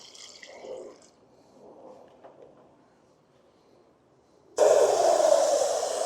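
Water pours steadily into a bucket for soaking mushroom growing substrate, a loud, rushing splash that starts abruptly after a few quiet seconds of faint handling noise.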